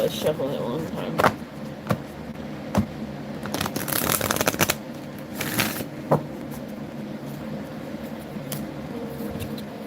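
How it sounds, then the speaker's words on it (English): A deck of tarot cards shuffled by hand nearby, with soft taps and ruffles building into a couple of longer riffling bursts, alongside a voice. "Alright, let's shuffle it one time."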